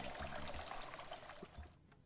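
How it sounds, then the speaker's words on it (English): Liquid is poured into a home-brew beer fermenter, a close, steady gushing pour that tapers off near the end. "I wish there was a better way to pour."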